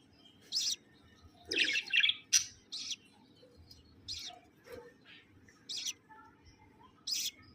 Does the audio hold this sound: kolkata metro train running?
no